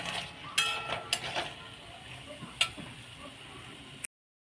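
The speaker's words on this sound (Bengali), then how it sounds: "এখন বড়াটা ভেজে নেব।" Battered pumpkin-flower fritters (bora) fry in a pan with a soft, steady sizzle, punctuated by a few sharp clinks and scraping taps of a utensil, fairly quiet and close.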